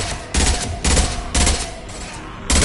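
Concussive shot ability blasts in Mass Effect 2, heavy booming shots repeating roughly every half second at close range, with loud battle sounds and no talk between them.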